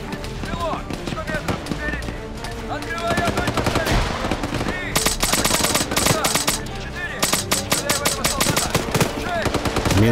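Dense automatic gunfire fills a firefight in the military video game ArmA 3. Rapid bursts overlap almost continuously and grow louder in the second half, with players shouting over the shooting.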